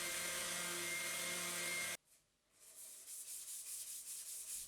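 A loud, steady abrasive whir of an electric sander on painted metal of a Suzuki GS550 motorcycle cuts off abruptly, followed by quieter rhythmic scraping and rubbing strokes.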